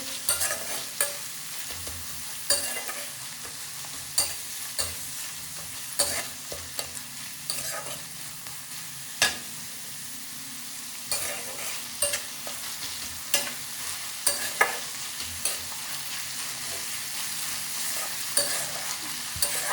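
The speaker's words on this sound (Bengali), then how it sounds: "তাহলে পেঁয়াজটা ভালো করে বেরেস্তার মতো ভাজা হবে" Onions sizzle in a hot pan while a utensil repeatedly scrapes and stirs, giving irregular clacks over a constant frying hiss as they fry crisp and brown with a little sugar.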